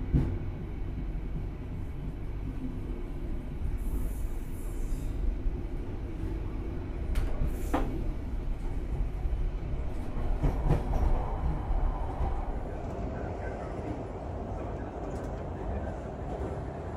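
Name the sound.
Kutojaya Selatan train running at speed on single track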